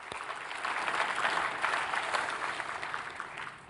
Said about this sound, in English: One more round of applause for our experts.